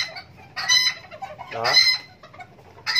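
A serama bantam chicken being held for feather trimming gives a series of close, loud clucks and a brief throaty squawk, with a single short spoken word mixed in.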